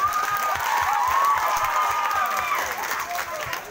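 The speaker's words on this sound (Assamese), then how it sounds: "এয়া জোৰেৰে হাত চাপৰি এটা" An audience at a live comedy stage show claps and cheers loudly for a few seconds, a dense, steady wash of applause with whistles and crowd noise.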